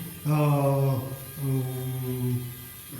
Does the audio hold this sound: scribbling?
no